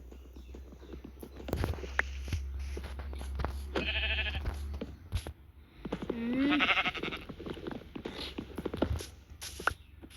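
Two bleats from sheep in a game, each wavering, over steady low hum and scattered clicks and footstep-like taps.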